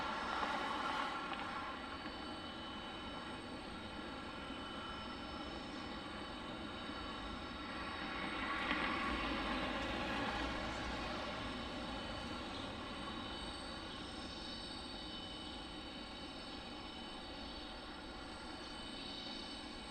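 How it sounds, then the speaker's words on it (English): A United Boeing 757 airliner passes at Detroit Metro Wayne airport, its steady engine roar swelling slightly mid-pass and then holding as a broad, continuous rumble at moderate distance. "Oh, what's that? A United 757?"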